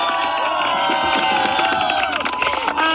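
A crowd cheers and claps loudly and continuously at a junior college event, with shouts and babble in a dense, sustained roar.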